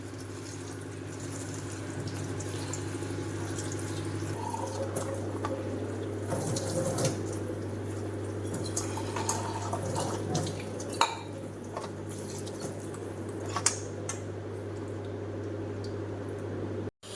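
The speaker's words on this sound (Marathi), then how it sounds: "सर्वात पहिले पालक आणि आंबट चुका छान स्वच्छ पाण्याने धुवून घेतलेला आहे." Spinach and sour sorrel leaves rinsed under a running kitchen tap, a steady rush of water into the sink with small splashes, drips and leafy squelches throughout, fairly close with no talking.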